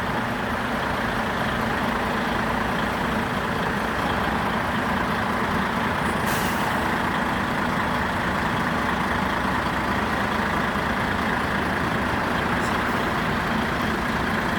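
A slow convoy of trucks in a fuel protest in Mallow, County Cork rumbles steadily with deep idling engines and a brief hiss of air brakes midway.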